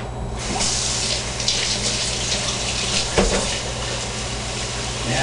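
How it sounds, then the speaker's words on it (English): Warm water pours steadily into a container, a continuous splashing rush that starts abruptly and carries on loud and close, with a brief knock partway through. "So I'm going to put some more warm water into this one."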